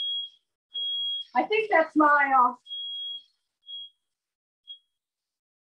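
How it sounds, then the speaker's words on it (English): Kitchen smoke alarm chirping in a high steady tone, several beeps of varying length tapering to short pips as it stops, with a person talking briefly over the middle of it. "The fire alarm."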